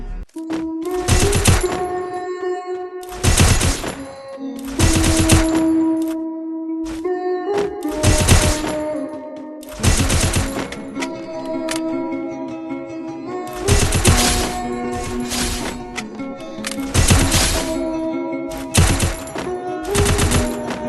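Bursts of rapid automatic UMP gunfire in the Free Fire shooting game, several loud volleys of a second or so separated by short pauses, with game tones between; close, no talk.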